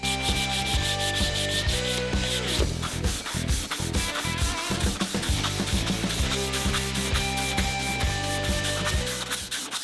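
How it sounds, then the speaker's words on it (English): Sandpaper rubbing steadily back and forth over a small cut piece of pecan wood, a loud, continuous scratchy rasp with rhythmic strokes and no talking. "we're going to go ahead and hit it with that sandpaper"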